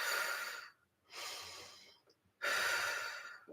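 Three close, audible yoga breaths in a fascia-focused session, each inhale drawn through the nose and exhaled through the mouth, separated by short pauses and with no talking.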